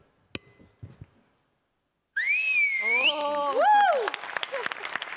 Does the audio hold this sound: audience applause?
yes